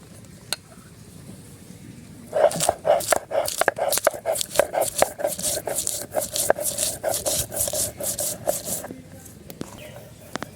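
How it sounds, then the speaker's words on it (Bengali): Green chilies and fresh garden vegetables being ground into paste, likely on a stone, giving a steady run of rhythmic scraping and grinding strokes up close, starting partway in and stopping near the end. "এখন এই যে আমার সবজি বাগানের সবজি, কাঁচামরিচ, এগুলো আমি ভালো করে বেটে নেব"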